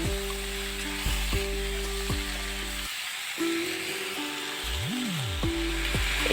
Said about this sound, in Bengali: এবারে আমি সবজিগুলোকে একটু ভেজে নেব